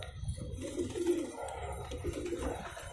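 Low, soft pigeon cooing repeats in a steady murmuring rhythm, fairly close, with faint background noise and no talking.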